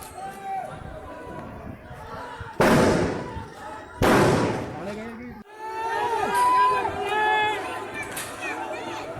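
Two loud, sharp gunshot blasts ring out during an election-day clash over fake voting in Kairana, each followed by a decaying echo. Agitated voices shout continuously around and after the shots amid crowd commotion.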